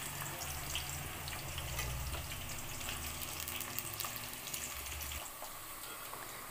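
Onions fry in oil in a pan for a spicy Telugu curry, giving a steady close sizzle with a low rumble from the stove and faint stirring clicks, easing off near the end.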